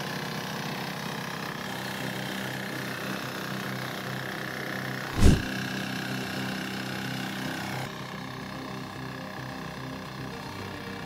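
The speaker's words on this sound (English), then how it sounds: "This machine with a 6-horsepower diesel engine is used to prepare the soil for planting." A soil preparation machine with a 6-horsepower diesel engine runs at a steady chugging idle in the field, moderately near, with one sharp loud knock midway and no talking.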